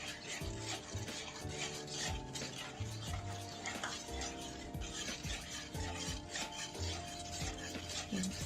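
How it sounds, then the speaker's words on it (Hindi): Cocoa powder is stirred into a cake batter in a pan with the flame off, giving a soft, steady scraping and swishing of a spoon against metal, with faint clinks and no voices. "80 ग्राम कोको पाउडर लेकर हम थोड़ा थोड़ा डालकर इसको मिक्स करते जाएंगे"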